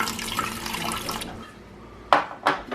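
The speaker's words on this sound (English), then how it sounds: "first we're gonna insert the water in the reservoir" Water pours with a continuous rushing splash into the reservoir of a Keurig coffee maker for just over a second, then stops, followed by two sharp plastic knocks.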